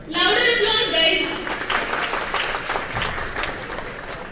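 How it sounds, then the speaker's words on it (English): Livestream participants applaud during a live Myntra UX quiz session on Figma; a voice speaks briefly at first, then a dense wash of clapping rises and tapers off gradually. "Louder applause, guys."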